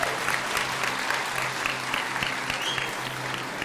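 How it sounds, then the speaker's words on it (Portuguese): A church congregation at a morning service applauds steadily, a dense, even clatter of many hands heard at a moderate distance for a few seconds with no pause. "pode aplaudir a Jesus aí"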